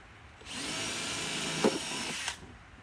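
An electric drill whines steadily for about two seconds, boring holes, starting and stopping abruptly with a brief knock midway, close and fairly loud, no talking.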